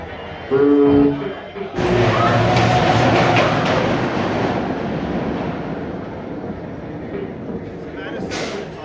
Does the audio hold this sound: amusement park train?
yes